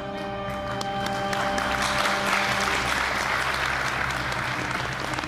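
Sustained applause from an audience in a 2006 Azerbaijani feature film, a dense, steady wash of clapping filling the whole stretch at moderate loudness, with no speech over it.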